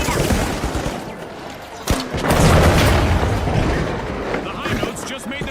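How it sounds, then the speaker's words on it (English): A goo grenade lands amid a firefight in The Finals, with a sharp bang followed by a heavy swelling boom and scattered gunfire crackling around it, while an announcer's voice runs over the action. "Goo grenade out."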